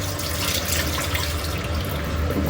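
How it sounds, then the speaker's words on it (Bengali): Water from boiled eggs being poured away into a sink, a loud, steady gushing splash close by with no talking. "জলটা ফেলে দিই"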